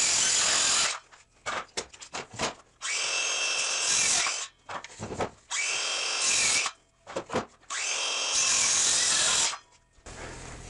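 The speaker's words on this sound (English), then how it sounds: "that's what it looks like after four quick cuts with that little saw" Small hand saw cutting a pyramid end on a wooden tenon: four bursts of fast, rasping sawing strokes with short pauses between them, close and loud with no talking.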